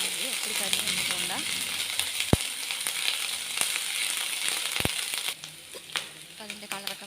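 Crushed ginger and garlic frying in a pan of oil for cauliflower masala curry, a steady broadband sizzle with a few sharp clinks from the utensil and background speech, quieter toward the end.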